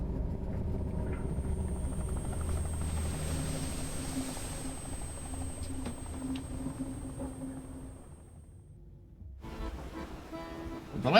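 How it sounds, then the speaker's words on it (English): A helicopter in the fishing video game Dredge, heard as a steady engine and rotor drone with a high whine that swells, then fades over several seconds before an abrupt change near the end. "the executive boards his helicopter"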